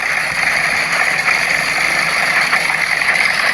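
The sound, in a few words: engine of a car built on a 1912 chassis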